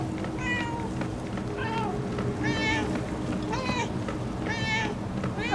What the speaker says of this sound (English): My cat came because of the meowing.